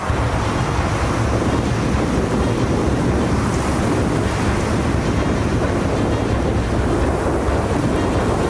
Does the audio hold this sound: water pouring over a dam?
yes